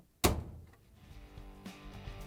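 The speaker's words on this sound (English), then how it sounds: "And now we can proudly close the door." A Whirlpool dryer door swings shut with one solid thunk, followed by a faint softer knock and low room hum.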